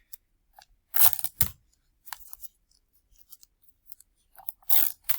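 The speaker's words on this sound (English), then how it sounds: "I'm going to go ahead and tape this together" Tape pulled and wrapped around a rolled paper tube for a papier-mâché giraffe leg: a few short, crackling rips arrive in separate bursts with quiet gaps between them, close and fairly loud.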